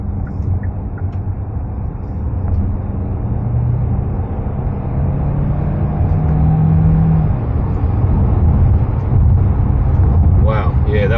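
Cabin sound of a 2023 Hyundai Santa Fe Hybrid Highlander accelerating smoothly onto a freeway from about 50 to 110 km/h, with a steady close road and engine rumble that slowly builds, plus a faint wind hiss.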